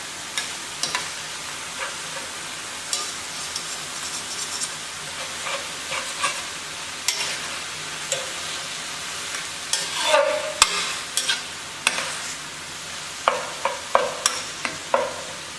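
Finely chopped ground Wagyu brisket beef browns in a pan with a soft, continuous sizzle, broken by intermittent stirring clicks and scrapes of a utensil that grow busier toward the end.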